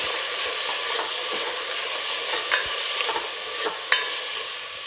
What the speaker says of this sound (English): Give it a nice stir.